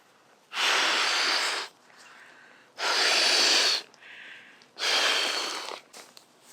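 Three long, forceful breaths are blown into an inflatable camping pillow, each a loud close rush of air about a second long, separated by short quieter inhales.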